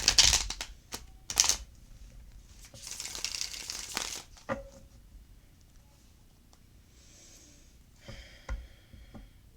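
A deck of oracle cards being shuffled by hand: quick papery riffles and crisp snaps, loudest in the first few seconds, then softer intermittent flicks and rustles close by, with no talking.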